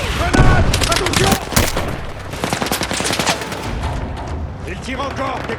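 Rapid automatic gunfire and shots in a military video game battle at Gibraltar, dense and loud, with bursts overlapping one another and with voices talking over the fighting.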